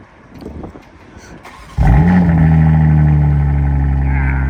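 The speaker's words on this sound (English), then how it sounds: "the cold start sounds pretty insane now with the Valvetronic exhaust" A BMW M3 G80 with a Valvetronic exhaust cold-starts with a sudden loud bark, then holds a heavy, steady high idle, close by, after a stretch of quieter background noise.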